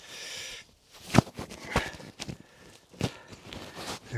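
A foam wind muffler being fitted over a microphone outdoors on an allotment, giving close, scuffing rustles and a few sharp handling knocks in bursts, with no talking.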